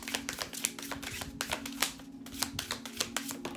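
A tarot card deck is shuffled by hand close up, a quick run of riffling, flapping card sounds with soft clicks, with no talking.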